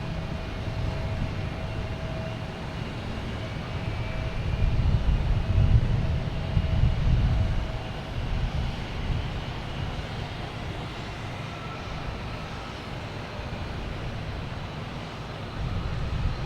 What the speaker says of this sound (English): next to take off will be a A321 JetBlue heading to Heathrow